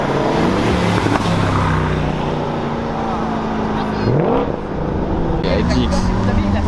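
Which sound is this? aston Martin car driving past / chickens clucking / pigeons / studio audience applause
aston Martin car driving past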